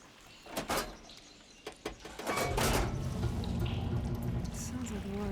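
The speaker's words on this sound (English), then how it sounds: "Sounds like the water's switched." Mechanical water machinery in Horizon Forbidden West switches the water flow: a few sharp clanks and knocks give way to a steady rush of flowing water that carries on to the end.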